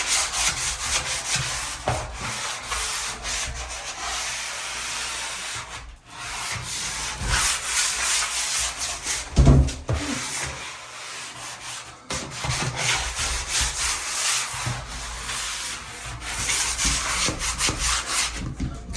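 Fine sandpaper scrubs across a wooden door in steady, close back-and-forth strokes, with a few brief pauses between passes.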